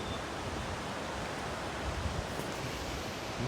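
A flowing mountain stream near a waterfall in Kullu District rushes steadily, with constant broadband water noise close to the microphone and no voices over it.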